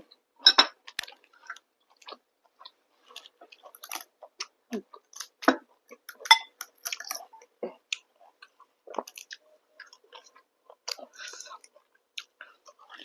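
Close, quiet chewing and smacking of rice eaten with sour curry (kaeng som), soft irregular wet bites and swallows spread across the stretch with faint breaths, no talk.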